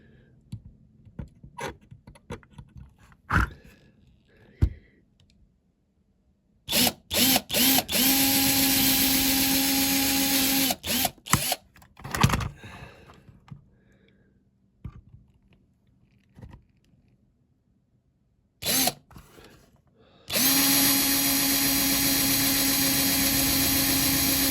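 Power drill boring out rivets on a Mercedes-Benz ambulance being built into a banger racing car, with two long loud whining runs and short bursts between quiet clicks and handling noises, close up with no talk.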